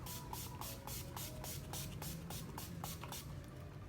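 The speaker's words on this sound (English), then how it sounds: "just set it and make sure everything stays in place with a little bit of setting spray" Setting spray misted onto a face to fix finished blue smoky eye makeup, heard as a quick series of about a dozen evenly spaced short hissing pump bursts, close and fairly quiet, over a low steady background.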